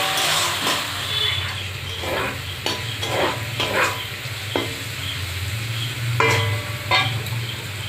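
Yard-long beans frying in oil in a kadai while being stirred, with a constant sizzle and repeated scrapes and clinks of the spatula against the pan, close and loud.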